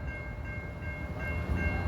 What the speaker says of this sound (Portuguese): Estamos ouvindo o sonido da estação